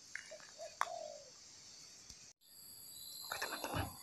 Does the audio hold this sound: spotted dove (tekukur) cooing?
yes